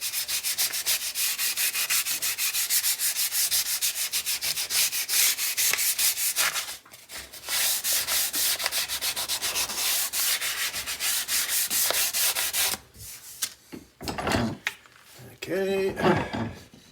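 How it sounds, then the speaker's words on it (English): Guitar neck being hand-sanded with fresh 220 grit sandpaper, a close, rhythmic scratchy rubbing of repeated strokes that pauses briefly, then gives way to softer handling sounds near the end. "Fresh sandpaper is always so nice, right? Cuts better."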